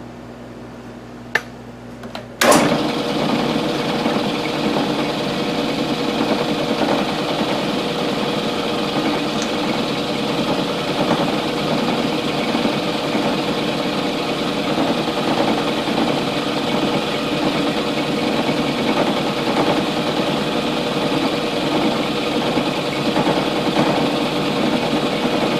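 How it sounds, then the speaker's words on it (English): A drill press spotting holes in a round steel column for a quick-change tool holder starts up after a couple of clicks, then runs with a steady motor whine and faint cutting chatter throughout. "So now I'm going to go along and spot the thing, and if it looks right, well then I'll go ahead and drill the holes."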